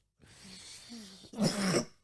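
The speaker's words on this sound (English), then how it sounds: "I'm coughing away today." A muffled, breathy throat sound leads into a sharper, louder cough near the end, close and brief, with no talking.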